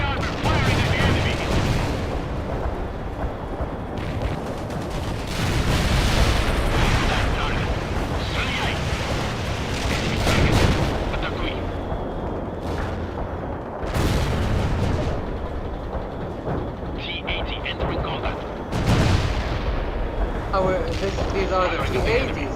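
Heavy armor tanks firing in the World in Conflict game, with repeated loud booms and rumbling blasts that run under dense battlefield noise and overlapping talk for the whole stretch.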